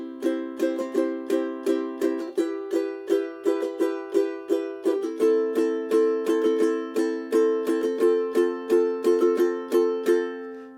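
Ukulele strummed in a steady down-down-down-down-up pattern for a song: bright, even chords ring alone at close range with no pauses.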